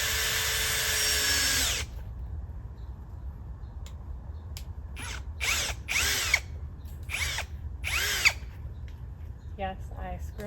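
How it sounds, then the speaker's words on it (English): A power drill drives a fastener through wooden wolfdog enclosure panels in a forest, a sustained whine for about two seconds up front, then scattered clicks, scrapes and handling noises of fitting the panels, with faint background activity. "I'll screw them in together using one fastener and screwing both panels together"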